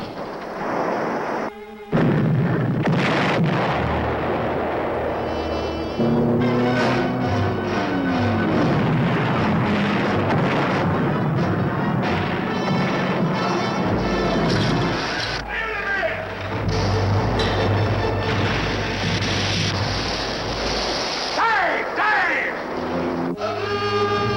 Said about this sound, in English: Commence firing. Fire one. Fire one. Fire one.